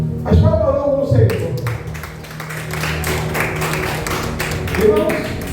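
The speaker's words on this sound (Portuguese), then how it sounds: "As palmas ao Senhor." A church congregation claps rhythmically in praise during a Portuguese-language service. The quick, even handclaps start after a second and carry on beneath a voice and sustained tones.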